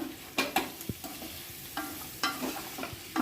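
Potato pieces stirred and tossed in an oiled pan over steady sizzling frying, with repeated scraping strokes of a spoon against the pan at an irregular rhythm, close and fairly clear.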